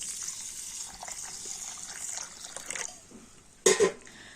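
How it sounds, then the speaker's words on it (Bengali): Water runs from a tap or is poured onto raw rice in a large vessel in a home kitchen, a soft steady splashing trickle that fades, followed by a short louder splash near the end. "আর চালের মধ্যে দিয়ে দেব জল"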